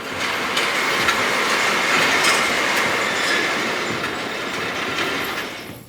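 Train running on the tracks, a close, continuous rumble with faint rhythmic clicks and a slight metallic squeal riding on top, steady throughout.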